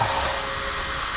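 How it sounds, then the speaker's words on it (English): Workshop fans blow steadily, a constant broadband airy rush with a faint tonal hum, close and continuous with no talk. "Turn those fans off, it's drafty"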